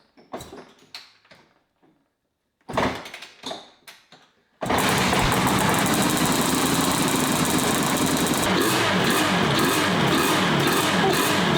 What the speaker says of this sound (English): Let's go for a kickstart.